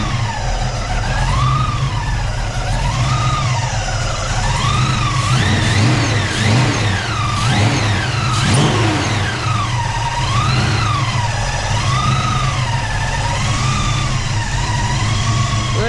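A Foxbody car engine on a freshly installed ATM carburetor idles with a steady rumble and is revved in repeated rising and falling surges, loud and close, with a slight idle surge and no talking.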